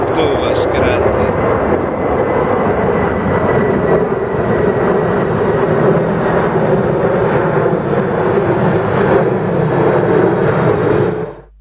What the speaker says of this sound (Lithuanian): Va sutrukdė mums žiūrėti, lėktuvas krenta.